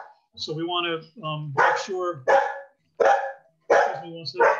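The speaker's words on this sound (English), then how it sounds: "That's my dog, he gets excited." A dog barks repeatedly nearby in sharp, excited bursts, some with whiny yips, interleaved with someone talking.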